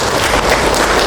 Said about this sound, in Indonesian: Tepuk tangan Bapak Ibu ya.